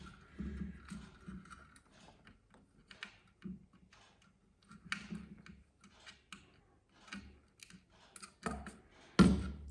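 Small plastic clicks and soft tapping as a CPU fan cable connector is pushed into a motherboard header, a scattered series of light close-up knocks ending in one firmer snap.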